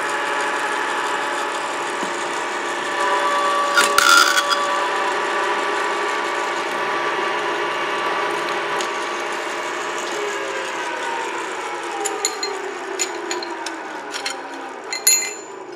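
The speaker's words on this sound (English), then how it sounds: "I'm just running the tap down into the T-slot on the table." An old power tapping head drives a tap into 316 stainless steel at a T-slot table. A continuous close mechanical whir with ratcheting gear tones, a brief clunk early on and rattling knocks toward the end.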